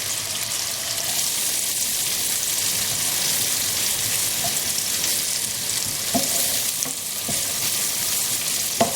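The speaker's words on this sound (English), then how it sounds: "Stir together the garlic, onions and salt until you have a really nice golden mixture for about 2 to 3 minutes" Chopped garlic, onions and salt sizzle steadily in a pan while being stirred, with a continuous close frying hiss and occasional soft scrapes and clicks.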